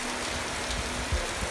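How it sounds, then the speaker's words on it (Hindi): Heavy rain pours steadily at a Peer Baba dargah in Siliguri, a dense even hiss filling the whole stretch with a low rumble underneath and no voices. "बहुत बारिश हो रहा है, वो देखो बारिश"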